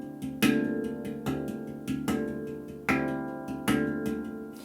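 Ringing metallic tones from a handpan in a steady paradiddle pattern, with some strokes clearly accented over softer ghosted notes, close and resonant.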